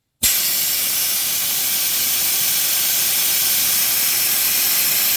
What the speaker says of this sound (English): all that's left for this video is to let some air out of the tire